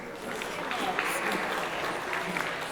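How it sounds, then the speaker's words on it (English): An audience at a poetry recitation state final bursts into sustained applause, dense clapping filling the room throughout, with a voice faintly audible beneath it. "Let's have another round of applause for all our participants."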